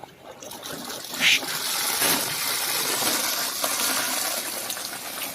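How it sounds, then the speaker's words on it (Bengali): Water pours from a pipe into a fish breeding tank in an earthen pond, a steady rushing gush that swells after a quiet start and keeps flowing loudly to the end without talk. "আমি জলটা খুললাম, এরপরে দেখুন এই জলটা বেরোবে এইদিকে।"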